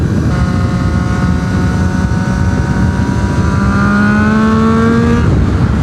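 A 2008 Triumph Street Triple's 675 engine climbs steadily in pitch as it accelerates hard, loud and close over constant wind and road noise.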